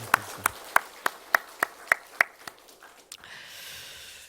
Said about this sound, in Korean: 우리 다시 한번 하나님의 영광에 박수 올리겠습니다